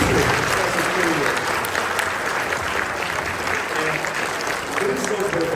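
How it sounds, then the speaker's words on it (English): Audience applause at a LEGO Ninjago designer panel at a fan convention, dense clapping filling the room, with some voices mixed in. "let's give a big round of applause to Dimi for what a impressive period"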